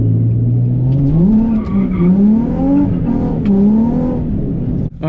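A car drifting, its engine note rising and falling through a long continuous tire squeal, loud and close throughout with no talking.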